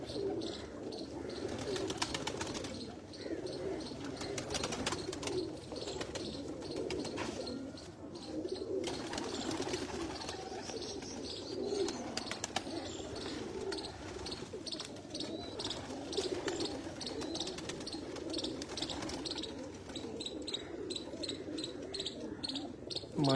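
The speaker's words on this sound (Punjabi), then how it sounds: "ਲੋ ਜੀ ਦੋਸਤੋ ਇਹ ਵੀ ਦਸ ਨੰਬਰ ਕਬੂਤਰ ਜੇ" Pigeons coo in a steady low murmur throughout a loft or rooftop in Chak Jhumra, Faisalabad, with crickets and small birds chirping in the background and no talk.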